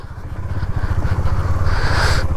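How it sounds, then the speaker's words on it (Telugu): A motorcycle grinds along a rough off-road mountain track above a river on a long-distance ride across India, its engine thrumming low and steady with rattling and clatter from the bumpy surface. "ఇప్పుడు మనకు మొదలైపోయింది ఆఫ్ రోడింగ్ నా బండితో"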